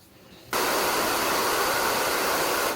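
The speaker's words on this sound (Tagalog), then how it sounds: "Alam nyo ngayon ako na blower." A hair dryer (blower) switches on abruptly after a brief quiet moment, then blows with a loud, steady rushing whoosh close by.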